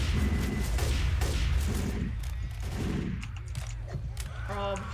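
Dense rapid gunfire bursts from a gun in the video game Left 4 Dead 2, loudest at the start then thinning amid busy game sounds and faint voices.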